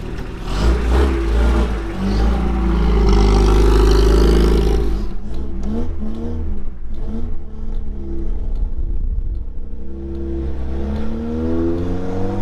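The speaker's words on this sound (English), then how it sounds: "Beautiful noise out the exhaust there." A Triumph TR2 classic sports car engine roars and revs loudly through its exhaust, rising to a peak, then settles into a throaty idle and burbles with throttle blips.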